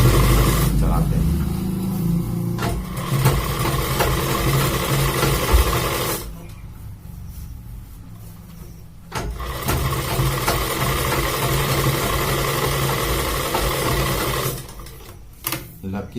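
Sewing machine running steady stitching on gents underwear, stopping briefly twice before resuming, with fairly loud close mechanical whir throughout.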